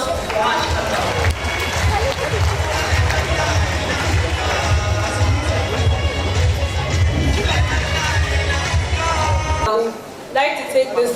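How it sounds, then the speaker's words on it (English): Crowd noise at a Nigerian space science launch ceremony, a dense roar of applause and cheering with babbling voices and low rumble that runs steadily, then drops off abruptly near the end. "Please, a round of applause for Ash."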